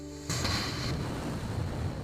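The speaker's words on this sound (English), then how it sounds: "That's the sound of one Raptor engine that powers Starship." A loud, steady roar of a single SpaceX Raptor rocket engine firing, a sudden onset followed by continuous broadband rumbling and hiss.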